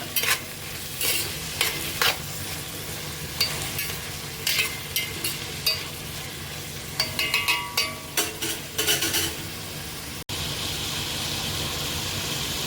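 Tomato frying in a pan for vegetable avalakki, with a soft continuous sizzle and repeated close stirring scrapes and clinks of a spatula, and no voices.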